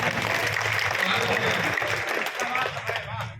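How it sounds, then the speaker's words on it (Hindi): An audience at a Hindi heroic-verse poetry recital claps in a sustained burst of mid-level applause that tapers slightly toward the end. "अपनी तालियों से आशीर्वाद करें।"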